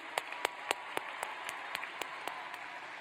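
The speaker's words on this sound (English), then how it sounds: "Let's give another round of applause for our student speakers." Sparse applause for student speakers at a graduation ceremony: a handful of distinct, evenly spaced claps, moderately loud over a soft room hum.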